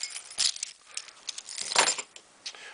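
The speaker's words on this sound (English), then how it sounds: "So those are my keys." A bunch of keys jangles close by in a couple of bright metallic shakes, with clinks and rattles rising and fading over a few seconds.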